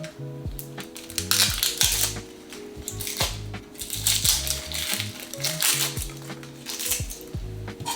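A knife cuts and peels an onion on a board for French onion beef short rib soup, giving repeated crunchy slices and crinkly peeling of papery skin, close and fairly loud, with no talk.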